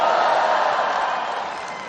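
An audience at a national solidarity movement declaration event applauds and cheers in a dense, loud, sustained wash of crowd noise that fades slightly toward the end.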